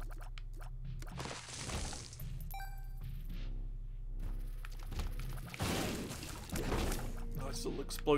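Explosions in the video game Binding of Isaac: soft broadband bursts with a low thud, one early and a stronger one later, fairly quiet amid other game sounds.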